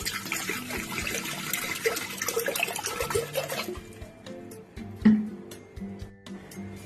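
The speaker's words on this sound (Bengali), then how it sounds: "জল দিয়ে দিচ্ছি" Water pours in a steady splashing stream over lentils set aside for tadka, close and fairly loud for about four seconds before thinning to scattered drips and faint kitchen clatter.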